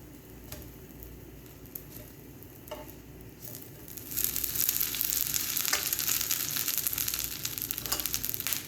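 Two buttered bread slices toast in a pan over low heat, a faint background sizzle swelling midway into a louder, busy crackling fry with scattered ticks and pops.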